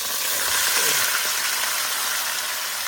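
Potatoes tipped into hot oil with softened onions for Bengali aloo bhaji, giving a steady, close broadband sizzle that holds evenly throughout with no talk.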